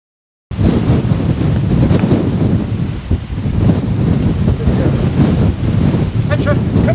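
Strong stormy wind on Dartmoor buffeting a microphone fitted with a furry windshield, a loud continuous rumbling roar with gusty surges throughout after an abrupt start.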